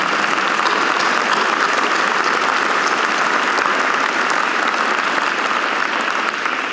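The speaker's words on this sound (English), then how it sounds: "how about a round of applause for Kurt?" Sustained applause from a large audience at an aviation hall of fame ceremony, steady and dense clapping throughout with no pauses.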